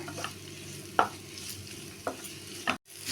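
Onion frying in a pan for egg rice, a quiet sizzle punctuated by three spatula knocks and scrapes, cutting off abruptly near the end.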